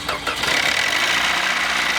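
A Toyota Corolla in rough, dirty condition, with worn connecting rods knocking, runs at a car meet. Its engine holds a steady, close, loud idle with a harsh, gritty mechanical rumble and no talking.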